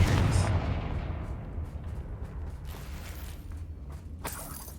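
A fiery spell blast in a Hogwarts Legacy battle booms out at once with a heavy rumble, then a long rolling decay with crackling debris and a further sharp crack near the end.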